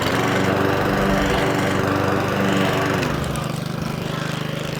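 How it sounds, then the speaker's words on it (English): An Atco Suffolk Punch lawn mower with a Kawasaki FJ100 engine idles close by, a steady rapid putter that stays loud and even throughout. "All fully serviced up, gearbox all done, idles beautifully."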